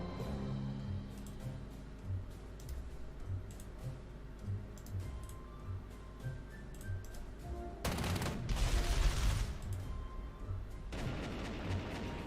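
Gunfire strikes an anti-aircraft gun in Panzer Corps 2, with a steady series of light ticking combat shots followed by a louder, sustained burst of crackling fire and a second flurry near the end.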